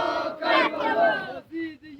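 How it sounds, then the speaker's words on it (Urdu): A protest crowd chants slogans against America and Israel, loud massed voices in rhythmic bursts with brief pauses, close by and filling the space. "وہ امریکہ کے خلاف، اسرائیل کے خلاف اور ایران کے حق میں اور فلسطین کے حق میں، مظلوموں کے حق میں نعرے بازی لگایا جا رہا ہے"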